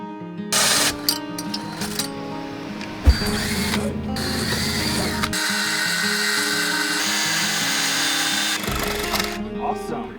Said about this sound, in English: it was time to drill the cutouts for the lights. We used a hole saw to ensure we had perfect circles.